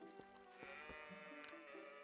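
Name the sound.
goat bleating in video game Zelda Twilight Princess HD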